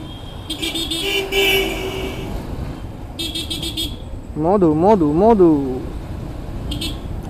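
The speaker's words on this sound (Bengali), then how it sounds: "3 বার হর্ন দিলাম, কবার সাইড দিলে, আবার 2 বার হর্ন দিলাম" Several short horn toots from a vehicle ring out over steady engine and road noise in traffic, with a voice speaking in the background.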